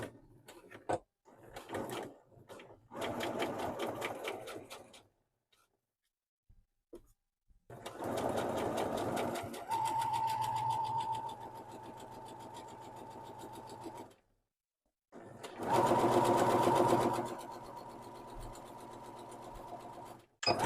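A sewing machine stitches a welt pocket, running in three separate bursts of steady, close stitching with short pauses between them.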